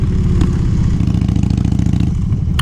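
A BMW S1000RR sport motorcycle idles and revs close by, a steady loud engine with a rapid pulsing rhythm and a brief clatter near the start.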